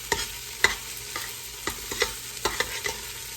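Oxtail pieces brown in a pan over medium heat, a soft constant sizzle punctuated by sharp stirring clacks and scrapes of a spoon against the metal, near and without talk.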